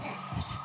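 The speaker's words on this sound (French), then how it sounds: "Vraiment au loin, vous entendez des sirènes." Police sirens in the video game Grand Theft Auto, a faint wail heard from far away under a steady hum, lasting under a second.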